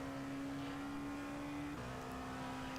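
Race car engines of LMP2 and DPi prototypes in a simulated Daytona 6 Hours endurance race drone steadily in the distance, holding one pitch before dropping slightly as the cars pass.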